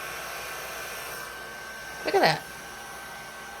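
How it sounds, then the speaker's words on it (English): A Revlon One Step hair dryer runs with a constant, airy whooshing hum throughout, while someone speaks briefly over it midway. "I just love this dryer."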